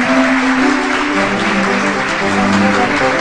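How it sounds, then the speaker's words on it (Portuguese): An audience claps for Regina Casillo, a broad wash of applause over a low, steady hum, continuous and fairly loud for a few seconds. "Regina Casilho, estas palmas são para você."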